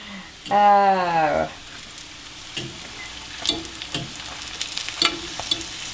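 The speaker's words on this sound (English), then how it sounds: "we're just gonna fry those egg rolls from all the sides" Pork and cabbage egg rolls fry in oil, a soft sizzle with a few light scrapes as they are turned, near and moderately loud, with a brief tonal squeal early on and no clear speech.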